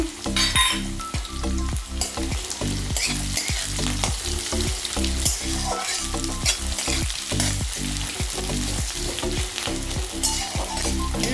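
Dry chili, chopped garlic, ginger and onion fry in hot oil, giving a loud, steady sizzle. Rhythmic stirring scrapes run through it without a break and no voices are heard.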